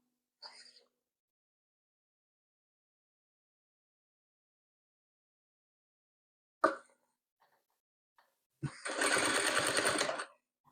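A sewing machine stitching patchwork runs in one steady whirring burst of about two seconds near the end, after long quiet with a few faint clicks and handling noises.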